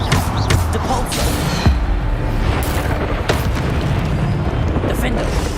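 Booming magical blasts from a Hogwarts Legacy spell fight, several loud thumping bursts with crackling tails over a dense, constant roar of game sound and music.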